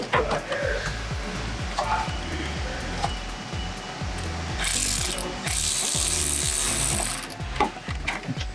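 A hand ratchet tightens fittings while Dual Pass and Option B kits go into a Chevrolet Cobalt SS, giving a close, steady train of sharp rhythmic clicks, joined midway by a brighter hissing rasp.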